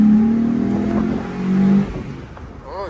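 Close, loud engine of a Chevrolet TrailBlazer SS pulling hard at wide open throttle, a strained droning roar that drops as a gear change comes, then rises again briefly.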